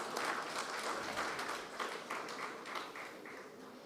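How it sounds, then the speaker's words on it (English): An audience at an annual association session gives a panel a round of applause, a broad crowd of hands clapping that swells at the start and gradually tapers off. "Let's give them a big, big round of applause."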